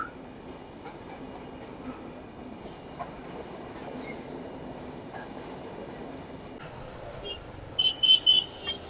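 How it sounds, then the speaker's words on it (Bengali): A passing train gives a steady low rumble and rolling clatter at moderate distance, and a brief run of high, pulsing squeals or horn-like tones rises near the end, with no clear talk. "ট্রেন আসছে"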